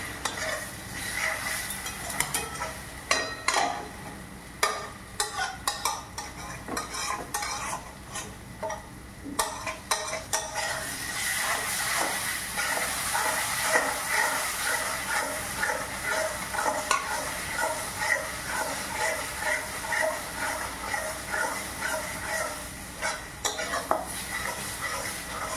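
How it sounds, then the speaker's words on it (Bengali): Spices frying and being stirred in a pan for Bengali-style egg korma, with a steady sizzle under repeated scraping and clinking of a spoon against the pan. "মশলাগুলো ভালো করে ভাজাটা হলো আসল ব্যাপার।"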